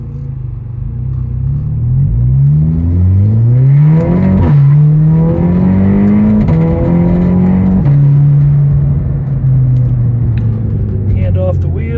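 A 2009 Audi TTS with performance upgrades pulls hard through paddle-shifted gears, its engine note climbing in pitch then dropping at each quick upshift, loud and close from inside the cabin.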